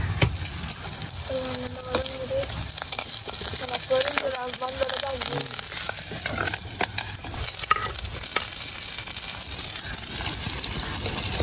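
Ingredients for a vegetarian fish curry sauté in a pan at home, giving steady sizzling with repeated stirring scrapes throughout, while a voice is faintly heard for a moment partway through.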